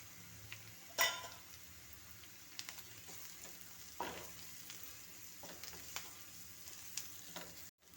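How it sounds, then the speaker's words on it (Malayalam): Turmeric, chili and coriander powder sauté in a pan, a faint steady sizzle broken by occasional scraping stirs and a sharp clink of the spoon against the pan near the start. "1 ടീസ്പൂൺ മഞ്ഞൾപ്പൊടി, 1 ടേബിൾ സ്പൂൺ മുളക് പൊടി, 1 ടേബിൾ സ്പൂൺ മല്ലിപ്പൊടി ഇതിട്ട് വഴറ്റാം."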